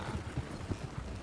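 Hooves of a horse in the Red Dead Redemption game RedM clip-clop quickly and steadily as it approaches, a soft rapid patter under muffled background noise.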